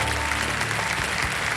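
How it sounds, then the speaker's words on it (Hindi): A short burst of steady clapping from a quiz show studio audience, dense and continuous, with a faint low hum beneath it. "ये ताली बज जाए इनके लिए।"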